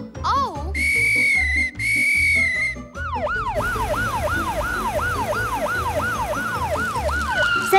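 Cartoon fire truck siren wailing in a steady, repeating up-and-down pattern, loud and close, following a brief high whistle-like tone and music, with no talking over it.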